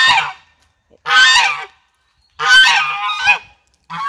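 Loud, nearby geese honk in several separate bursts of harsh calls with short silences between them.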